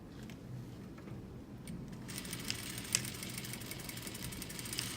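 A sewing machine stitches a quarter-inch collar seam along a fold line; its motor gives a low, steady hum that is fairly faint, with a brief tick near the middle.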